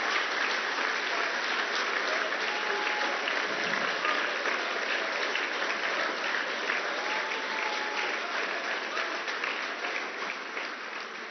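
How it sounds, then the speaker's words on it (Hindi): Sustained applause from an audience at a business summit in New Delhi, a dense steady clatter of many hands that fills the room for about eleven seconds and tapers slightly at the end. "Big round of applause."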